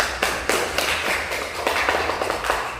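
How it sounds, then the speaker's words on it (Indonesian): A small group claps in a classroom at the end of a teaching simulation lesson, producing fairly quiet, uneven taps that come in loose bursts. "tepuk tangan untuk kita semua"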